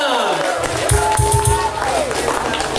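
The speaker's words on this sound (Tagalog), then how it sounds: "Palakpak!" Applause from an audience at an organization's 62nd anniversary gathering, a dense spread of claps mixed with crowd noise and cheering, with voices and a tonal sound running through it at steady loudness.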